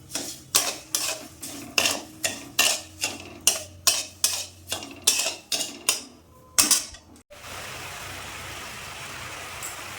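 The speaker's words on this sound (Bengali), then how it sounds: "নেড়ে দিলাম।" A spoon stirring sugar and a little water in a pan, a run of about a dozen rhythmic scraping knocks against the metal, then a soft steady hiss once the stirring stops.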